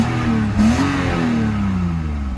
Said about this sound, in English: Probably shouldn't rev it that high while it's still cold, but it's an S52.